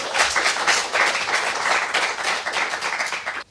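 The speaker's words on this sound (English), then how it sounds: "Peter also deserves applause for him sharing his code." Sustained applause from an audience at a hackathon wrap-up session, dense overlapping clapping at steady volume for several seconds, then cutting off abruptly near the end.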